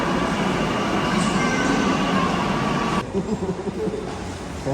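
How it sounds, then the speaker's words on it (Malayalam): At a station a train pulls away with a loud, continuous rumbling roar that drops noticeably after about three seconds as it moves off. "ഞങ്ങൾ വന്ന ട്രെയിൻ ദാ പോകുന്നു"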